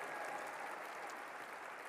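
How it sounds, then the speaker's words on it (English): Applause for servers and chefs at an awards dinner, a dense, even wash of many hands clapping steadily throughout, fairly distant and soft. "Can we get a round of applause for the servers and the chefs?"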